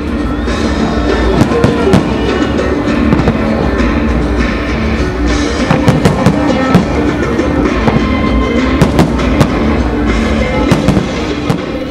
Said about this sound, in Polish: Miłośnicy fajerwerków obejrzeli 3 pokazy sztucznych ogni